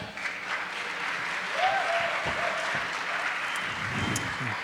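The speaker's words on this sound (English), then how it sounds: "Please give a big round of applause for Sebastian." An audience applauds at the opening ceremony and kickoff of a tech event as a WalletConnect speaker is introduced, with steady sustained clapping at moderate volume filling the room.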